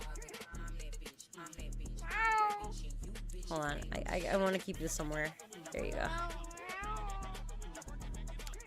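A standoffish pet cat meows several times indoors, its calls rising and falling through a steady stretch of talking voices.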